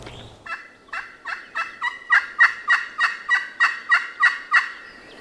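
A wild turkey on Alabama public land gobbles in a rapid run of about a dozen loud, rhythmic bursts, each strong and fairly close, with no talking.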